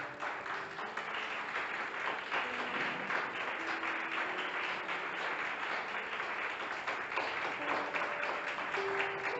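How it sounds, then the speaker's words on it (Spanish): Congregation applauding in a church service, a steady sustained wash of many hands clapping at moderate distance, with faint voices and tones mixed in. "¿Cuánto le dan un aplauso?"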